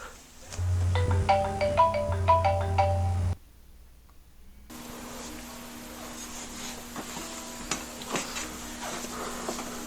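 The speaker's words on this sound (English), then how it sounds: "I think this is Vinny's phone" A mobile phone rings up close with a loud, repeating electronic tone pattern for about three seconds, then stops, followed by quiet room noise and a steady hum.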